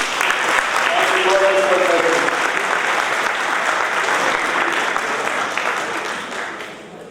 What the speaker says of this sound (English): Can we give him a round of applause again